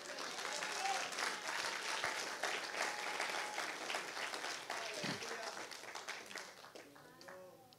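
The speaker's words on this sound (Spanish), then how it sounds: "Aplaude si vas a aplaudir." A church congregation claps together during a sermon, a dense rattle of applause that gradually thins and fades, with voices rising and speaking over the tail end.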